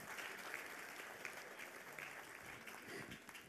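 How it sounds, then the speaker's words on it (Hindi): Audience at a Bollywood celebration of Kishore Kumar's birth anniversary applauds a memento presentation, steady clapping with a slightly distant, roomy quality and a few murmurs. "तालियां जरा जोरदार हो जाए प्लीज"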